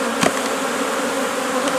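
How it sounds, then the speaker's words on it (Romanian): Honeybees buzz as a dense, steady drone at an opened hive, close and continuous throughout with no talk, during routine colony work before evening syrup feeding. "Lăsăm să se domolească foarte multe albine aici."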